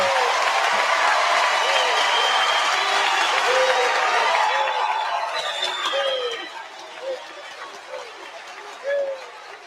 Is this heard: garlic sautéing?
no